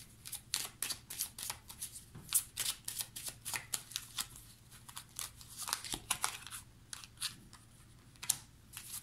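Tarot-style cards being handled, flicked and laid down on a table, a quick run of soft close snaps and slides at an uneven rhythm, faint throughout.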